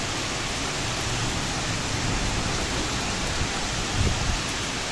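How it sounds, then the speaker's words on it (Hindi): Heavy rain pours down outside in a steady, dense hiss that stays loud and unbroken throughout. "आप देख रहे हो बहुत तेज़ बारिश हो गई थी इस टाइम पे"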